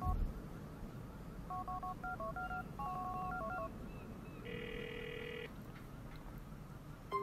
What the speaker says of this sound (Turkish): Telefondan hemen hile kodunu girelim.